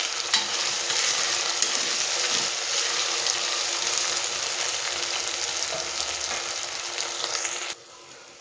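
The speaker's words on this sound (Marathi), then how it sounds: "बटाटा, कांदा, टोमॅटो अगदी छान प्रकारे इकडे फ्राय होत आहे" Potato, onion and tomato fry in a pan with a steady close sizzle and faint stirring throughout, cutting off abruptly near the end.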